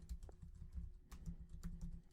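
Soft, steady keystrokes tap out a terminal command on a computer keyboard in a quiet room, close up and fairly faint, in an even rhythm with a few heavier key presses.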